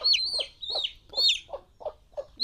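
Chickens on a poultry farm cluck in a quick repeated rhythm, about six short calls mixed with higher chirps, close and clear with no talking.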